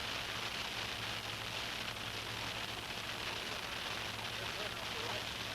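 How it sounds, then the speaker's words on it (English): Heavy rain and hail pour down during a thunderstorm, a dense, even hiss that runs steadily throughout, with a voice faintly underneath. "there was a lot of rain and hail coming down"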